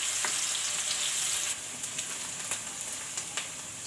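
Onions frying in a pan for a fenugreek and potato curry, a loud steady sizzle and hiss up close that drops a little partway through, with scattered pops and stirring clicks.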